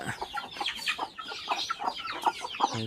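Guinea fowl give repeated harsh, choppy calls close by, a rapid irregular series of scratchy squawks that overlap and continue without pause, with no talking.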